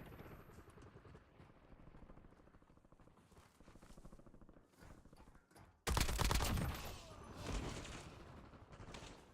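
Gunfire in the Warzone video game: a steady rattle of rapid shots, then a louder, denser volley that dominates the second half before tapering off.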